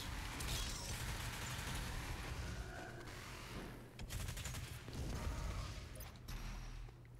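Rockets launching and exploding in the Doom Eternal shooter game, a dense, loud barrage of blasts and mechanical clatter that runs almost continuously, with brief dips between volleys.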